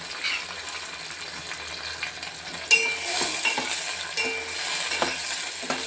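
Dried prawns fry in a pan with a close, crackling sizzle while a spoon stirs them, scraping and clinking against the metal in irregular taps, with no speech.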